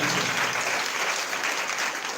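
Loud, sustained applause from a congregation at a Sunday church meeting, a dense wash of clapping that holds steady for a couple of seconds with no talk over it.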